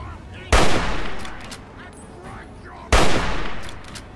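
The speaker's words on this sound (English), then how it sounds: "I guess he's gonna shoot me." Two loud, sharp gunshots in Fallout 3, each a sudden blast with a long ringing decay, spaced a couple of seconds apart.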